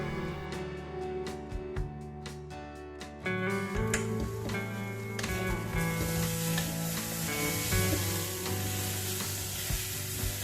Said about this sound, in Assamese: এতিয়া পুনৰ ভালকৈ লৰাই দিম অলপ দেৰি এনেদৰে লৰাই থাকিম